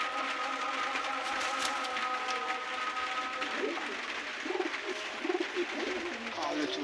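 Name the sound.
pigeon cooing, a female Lal Chini pigeon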